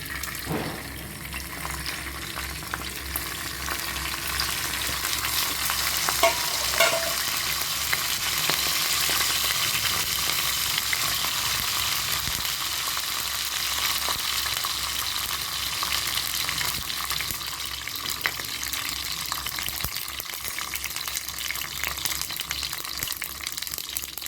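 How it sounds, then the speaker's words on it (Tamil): Steady, bright sizzling of mustard seeds and urad dal frying in hot sesame oil, loud and continuous with faint crackles and no voices. "கடுகு உளுத்தமர் போட்டுக்கலாம்"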